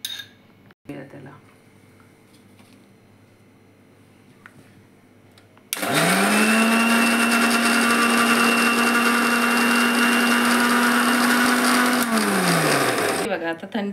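A mixer grinder blends curd, milk, sugar and ice cubes into lassi, starting abruptly with a loud, steady whirring roar that holds for about six seconds before winding down.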